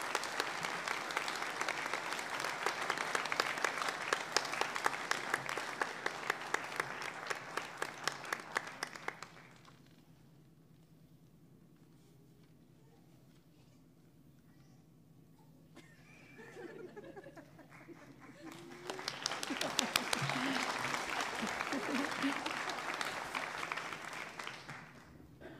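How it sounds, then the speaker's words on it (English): An audience at a 2022 nursing pinning ceremony applauds graduate Sydney Stevenson. A loud, sustained burst of many hands fades into a quiet lull, then another full round of clapping swells back up. "Let us give her a round of applause"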